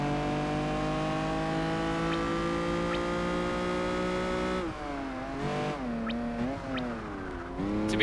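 Racing car engine in Project Gotham Racing 4, a steady high-revving drone with harmonic whine that drops and wavers through gear shifts and cornering, with faint tire squeal, loud and close throughout.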